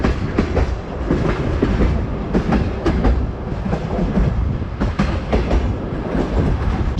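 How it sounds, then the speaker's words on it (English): A slow-moving train in Kyrgyzstan rolls along at around 40 km/h, heard loudly from on board as a heavy continuous rumble with rhythmic clickety-clack wheel knocks over rail joints. "Train runs slowly, its speed roughly exceeds 40 kilometers per hour"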